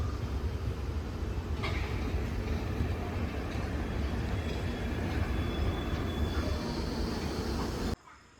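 The Guruvayur-Madurai express rumbles slowly out of Guruvayur station onto the main line, a steady low rolling drone of wheels and carriages heard from on board, constant and moderately loud before cutting off.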